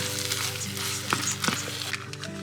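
Vegan mince, peppers, mushrooms and onion frying in a pan, a steady close sizzle with a few brief stirring scrapes and no talk.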